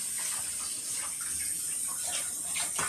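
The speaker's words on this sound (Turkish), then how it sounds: "Balıkları yıkayacak mıyız?" Tap water runs steadily as fish are rinsed in a kitchen sink, a continuous close hiss and splash with small shifts in flow and no talking.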